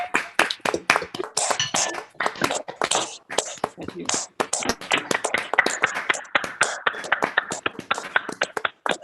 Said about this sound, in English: offer a round of applause